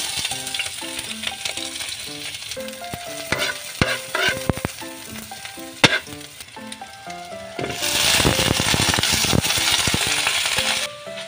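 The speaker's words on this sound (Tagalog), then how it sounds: "gigisahin lang natin" Garlic sautéing in a roughly twenty-year-old frying pan: a close, crackling sizzle with rapid clinks and scrapes of a spatula, then a louder, denser hiss toward the end. No one speaks.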